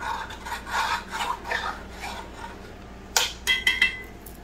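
A metal pan being scraped to lift browned meatball bits stuck to its bottom while making Swedish meatballs and gravy, heard as a series of rasping strokes, closer and louder in a quick burst near the end.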